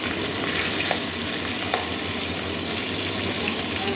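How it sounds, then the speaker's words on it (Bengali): A rohu fish head fries in hot oil, giving a dense, steady, close sizzle throughout with faint crackles and no voices. "এবারে মাছের মাথাটা তুলে নেবো। দুদিকে লাল লাল করে ভেজে নিয়েছি।"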